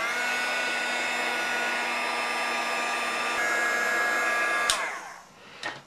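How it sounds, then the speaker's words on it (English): A handheld embossing heat gun runs steadily while setting heat-and-stick powder on a card, a close continuous whirring blow with a thin whine that cuts off near the end, followed by a couple of brief clicks. "So we'll set this again with our heat tool."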